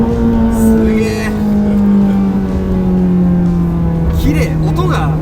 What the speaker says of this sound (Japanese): フェラーリの V8 音がすごい音色が綺麗というか